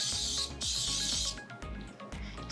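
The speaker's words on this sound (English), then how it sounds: "I spray them really well." Cooking spray misted over a muffin pan in a kitchen: two long, close hissing bursts separated by a short gap, followed by quieter handling noise.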